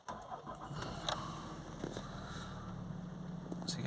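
Range Rover Sport 3.0 SDV6 diesel with a turbo overboost fault being started, a short crank followed by a low, steady diesel idle, heard faintly from inside the car.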